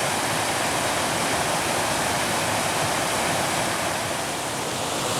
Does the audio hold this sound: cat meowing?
no